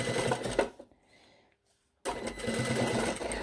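A sewing machine runs in two steady bursts, stitching the lining of a zipped pocket for a Perfecto-style jacket, with a short quiet pause between the runs.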